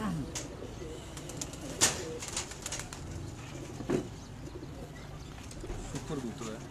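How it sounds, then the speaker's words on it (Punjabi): A Teddy pigeon at a Pakistani bird market coos softly, with a brief wing flutter and faint chirps, while someone talks nearby over light background noise. "ਸੁਪਰ ਕਲਾਸ ਕਬੂਤਰ ਜੇ"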